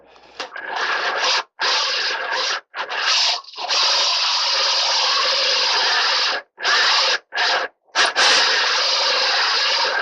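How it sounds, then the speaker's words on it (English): A power drill with a pilot bit bores through wood for a shop vac attachment caddy, giving loud sustained grinding bursts broken by several short pauses as the drill is rocked. "what's going to happen is I'm going to just rock the drill a little bit as I bore through"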